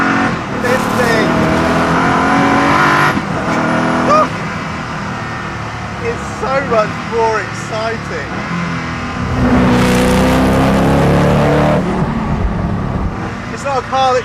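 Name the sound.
Koenigsegg Agera supercar engine revving while driving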